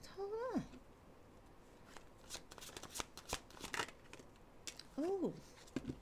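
Tarot cards being shuffled during a live reading, a quick series of soft papery riffles and flicks, with a voice briefly talking at the start and again near the end.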